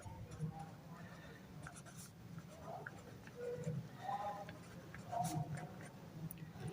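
A pen scratches across paper in short strokes while a math exercise is solved, faint and intermittent with quiet pauses between marks.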